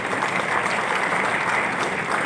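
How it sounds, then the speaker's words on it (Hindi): A crowd claps loudly and steadily at a direct selling gathering, continuous dense applause with no talking, holding at an even level throughout. "क्या बात है, जोरदार तालियां बनती है आप सबके लिए"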